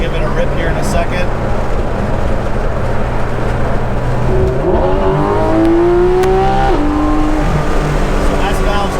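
A Porsche GT3 RS with an MBRP exhaust and its valves closed drones steadily from inside the cabin, then revs up through rising engine pitch before easing off, with a voice talking over it.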